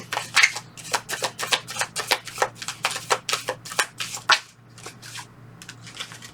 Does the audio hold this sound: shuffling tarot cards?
yes